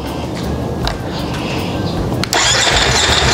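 A motorcycle fitted with an Akrapovic exhaust fires up after a few seconds of churning and ticking, then bursts into a loud, raspy idle close to the listener.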